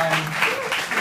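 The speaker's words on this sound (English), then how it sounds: "A little clap for that." An audience at a university alumni gathering in a Beverly Hilton Hotel ballroom claps in a brief, dense patter, loud and close, with a voice heard over the applause.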